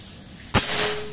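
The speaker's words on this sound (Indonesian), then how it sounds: "tembakan ketiga." Single sharp shot from an AK Lipat Army 60 cm PCP air rifle with Monel barrel at 4000 PSI, a loud close crack followed by a short lingering ring and room tail, alone without talk.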